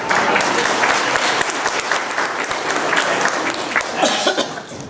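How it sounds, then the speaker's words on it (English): An audience claps together in a room, dense continuous applause for a few seconds with a cough or throat clearing mixed in near the end. "Let's give him a big, big clap."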